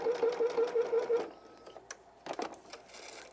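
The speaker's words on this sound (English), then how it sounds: "go ahead and sew a couple of stitches. Do your back stitch on your machine." A sewing machine stitching fabric for a small keychain tissue holder, a quick run of even mechanical stitches up close, then stopping, followed by light clicks and handling noises.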